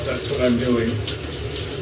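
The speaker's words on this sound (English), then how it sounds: "I have a rain shower here." Water pours steadily from a rain shower head in a home shower, a continuous close hiss and splash, with a person briefly talking over it.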